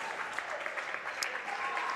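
A home crowd and bench at a boys' high school varsity basketball game in Woodstock at U-32 erupt after the Raiders win, a dense, steady wash of applause and cheering that holds loud and unbroken for the whole stretch.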